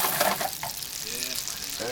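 Lemon juice goes into a sizzling chicken francese sauce of wine in a hot pan, giving a close, steady frying hiss and bubbling with light stirring while a person talks.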